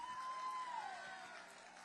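Fired-up crowd cheering at a veterans' protest in Washington DC against VA cuts, a steady wash of voices and whoops held at moderate level, with a whistle-like tone gliding downward partway through.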